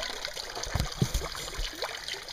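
Water backflows from a hose through a goldfish pond pump, a steady close trickle and splash with a few gurgling bursts throughout.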